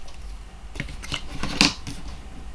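Scissors snip through a piece of white card in a few quick close cuts, with a sharper snip near the end and no talking.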